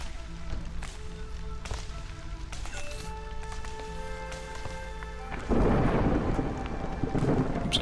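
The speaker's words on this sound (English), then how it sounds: "There's a storm" Game thunderstorm in Against the Storm: soft, sustained tones sit over faint rain, then a loud burst of heavy rain and rumbling thunder swells in and continues to the end.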